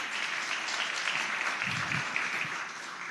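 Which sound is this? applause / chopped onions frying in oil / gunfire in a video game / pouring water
applause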